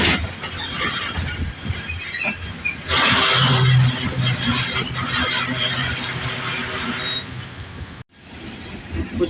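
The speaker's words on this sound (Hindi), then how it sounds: "कुछ सेकंड रुकने के बाद यहाँ से डिपार्ट कर रही है हमारी ट्रेन" A train pulling away from KCR KPT railway station, with loud rumbling wheels, a burst of squealing and clatter around the third second, steady rolling noise, then a brief drop near the end.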